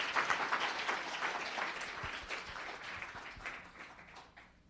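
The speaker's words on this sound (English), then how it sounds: "Another round of applause for Mr. Ted Chin." Audience applause at a town council meeting, a steady wash of clapping from a crowd of attendees that thins out and fades toward the end, heard alone without talk.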